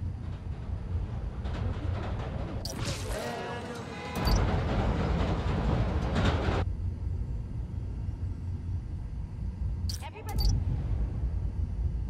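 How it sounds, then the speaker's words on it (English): A train rumbles past in the Spider-Man: Miles Morales video game, its steady low roar swelling with bright clattering bursts near the middle and again toward the end, with a voice speaking briefly over it. "Need to wait for the train to come by."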